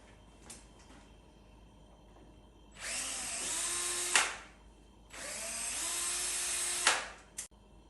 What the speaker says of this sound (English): you want to pre-drill the screw holes where you've just marked out